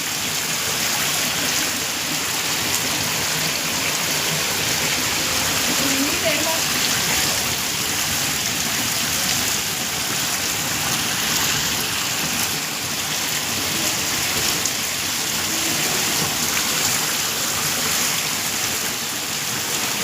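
Heavy rain pours down on village lanes and overflowing drains, a dense, steady hiss of water striking the ground that holds loud and unbroken for the whole stretch.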